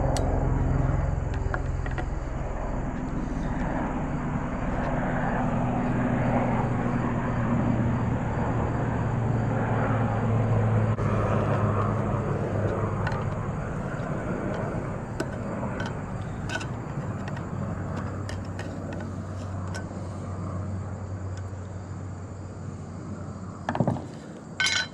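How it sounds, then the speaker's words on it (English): Aircraft passes overhead with a broad, steady rumble that lingers for most of the stretch and slowly fades, heard outdoors at moderate distance with a few faint clicks and knocks nearby. "Of course, we get a helicopter flying over."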